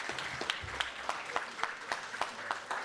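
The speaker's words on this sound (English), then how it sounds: "So I'll take an applause for that," A small crowd at a town hall meeting gives brief applause, with distinct individual claps landing in an uneven rhythm, fairly quiet and not very full.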